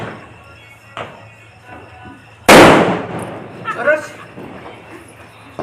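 A Diwali bullet bomb firecracker in a village bursts once with a sharp, loud bang that trails off, with people talking and a dog barking around it.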